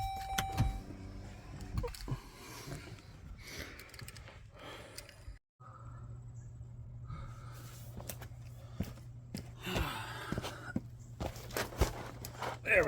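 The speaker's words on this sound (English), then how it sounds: "You can actually hear the electric motors running, I think." Electric rear parking brake motors on a Chrysler Pacifica whir steadily for several seconds in a quiet garage during a rear brake job, with a short pause and a few faint clicks and handling noises around them.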